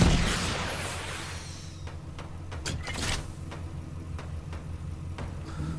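Several sharp booming cannon blasts ring out in sequence over a dense, noisy background of continuous sounds from the video game Bleak Island.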